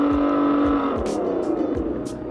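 Super 73 e-bike fitted with an OEM add-on engine sound unit, giving a loud, steady synthetic motor drone with a car-like rising whine, heard close and alone for a couple of seconds.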